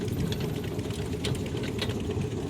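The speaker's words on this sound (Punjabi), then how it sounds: "ਤੇ ਹੁਣ ਆਪਾਂ ਮਸ਼ੀਨ ਤੁਹਾਨੂੰ ਚੱਲਦੀ ਵੀ ਦਿਖਾਵਾਂਗੇ ਦੇਖਾਂਗੇ ਕਿਵੇਂ ਕਟਿੰਗ ਕਰਦੀ ਹੈ" A chain-driven wood-cutting machine runs at a timber market in Abohar, making a steady, close mechanical drone with a fast rattling texture throughout.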